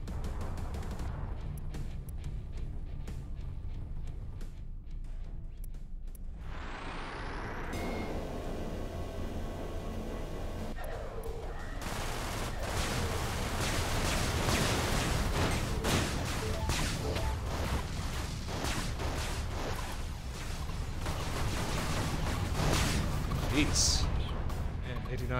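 Artillery batteries firing in the space game Everspace, a dense stream of booming impacts and rattling blasts building to a loud, continuous barrage, with a person talking over it.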